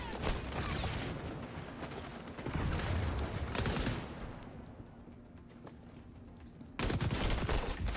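Automatic gunfire in XDefiant aimed at a shield, sustained bursts of rapid shots with a louder stretch near the start and another burst at the end, no talking.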